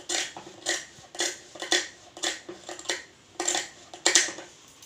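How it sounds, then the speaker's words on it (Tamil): Scissors snip through folded fabric while cutting a sleeve, a series of about a dozen short crisp cuts in a steady rhythm, close and fairly quiet with no talk. "இப்போ நான் இந்த இடம் மடித்த பக்கத்தை மட்டும் கட் பண்ணிக்கிறேன்"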